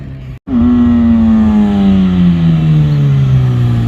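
A Suzuki GSXR 1000 motorcycle revs hard, cuts out briefly for a gear shift, then pulls again in a loud, close, continuous wail that slowly falls in pitch.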